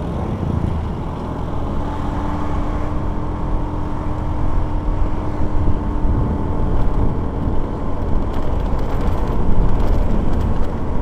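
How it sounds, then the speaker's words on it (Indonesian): Motorcycles and cars passing along the road on a Sunday-morning group ride to Kopeng, a steady loud roar of engines and traffic noise that swells toward the end, with no talk. "Wih, motor kenceng-kenceng. Ih, ini mobil gimana ini?"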